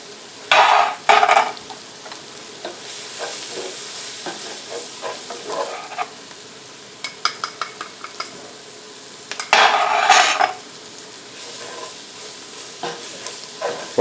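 Flour, onions and mushrooms fry in a pan for a chicken fricassée, with a soft sizzle under repeated close scraping strokes of a utensil, two loud stirring bursts and scattered clinks against the pan, and no speech.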